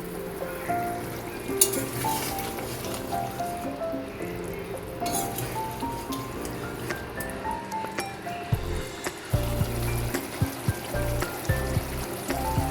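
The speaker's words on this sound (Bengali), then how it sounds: "ভেজে রাখা আলুটা মশলার পেস্টের সাথে মিশিয়ে নিচ্ছি।" Fried potato being stirred into a sizzling spice paste in a pan while cooking bhindi aloo posto, with a continuous frying hiss and intermittent scraping and squishing stirs close by.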